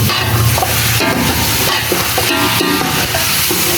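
Half a kilo of chicken and half a kilo of potatoes sizzle steadily in masala in a pot while a spoon stirs and scrapes through them, a dense close frying hiss with no talk.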